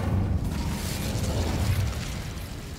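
Incendio fire spell cast in the video game Hogwarts Legacy, a loud, sustained roaring burst of flame with a heavy low rumble that holds steady for nearly three seconds, with no voices over it.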